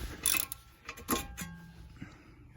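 A ratchet backs out the outer tie rod nut on the driver side of a Pontiac Vibe or Toyota Matrix, giving short bursts of metallic clicking with pauses between them.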